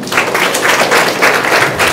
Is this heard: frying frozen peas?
no